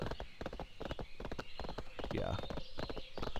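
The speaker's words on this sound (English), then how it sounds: "So as we ride this horse down here" Horse hooves clip-clop in a steady rhythm while riding in World of Warcraft, a continuous game sound running under a voice talking over it.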